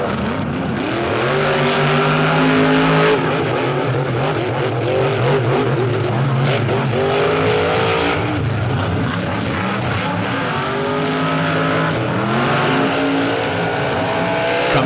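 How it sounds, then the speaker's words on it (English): Race cars roaring around a short track at a Charlotte back-to-school bash night race, engines rising and falling in pitch as cars pass, loud, continuous and overlapping, with tire squeal mixed in. "Pedal to the floor, the motors just ringing as they roar around the track."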